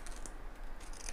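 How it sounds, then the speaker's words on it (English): Scissors snip along foam in a sewing bag project, a few quiet crisp cuts spaced through a soft close-up shuffle, with no talk. "just snip along the foam, just pull the foam back, snip along, and take the bulk out"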